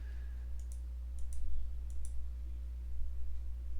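A computer mouse gives a few light, quick clicks, some in pairs, quiet against a steady low electrical hum with no talking.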